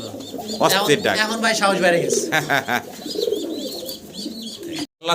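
Fancy pigeons coo steadily in a close, repeated pattern of throaty, rolling calls, with a sharp break at the very end.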